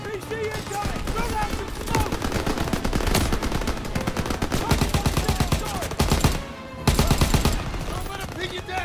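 Dense, loud gunfire from rifles and machine guns rattles almost continuously in a World War II combat scene from the Call of Duty WWII game, with a brief lull near the end before the shooting resumes, and voices shout over the battle.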